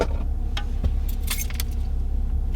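A car key slides into the slot of a BMW diagnostic tool, giving a few brief metallic clicks and a jangle of keys over a steady low hum, close by.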